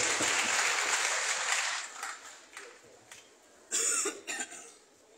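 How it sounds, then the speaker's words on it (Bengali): A quiz audience gives a burst of applause that fades out, followed by scattered coughs and a short second flurry of claps in a hall. "সৌরভের জন্য জোরে হাততালি"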